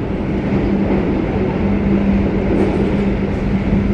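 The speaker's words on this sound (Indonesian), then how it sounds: "Argo anggrek melesat dengan cepat di Cikaum. Kecepatan sekitar 110 km per jam." Argo Bromo Anggrek express train passing at about 110 km/h at Cikaum, Indonesia, a loud, steady roar of wheels and rail rumble held close and constant for the whole stretch, with no voices.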